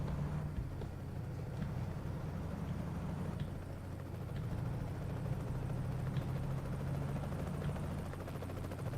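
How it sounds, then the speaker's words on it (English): A helicopter drones overhead as a steady, continuous low rotor rumble that stays at an even level, heard alone outdoors with no talking. "I hear the helicopter, but I can't see the helicopter."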